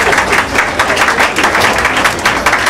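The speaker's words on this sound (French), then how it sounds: "Vous pouvez applaudir." Dense, continuous applause from an audience at a Congolese-Belgian cultural event, loud and close, filling the whole stretch with even clapping and no break.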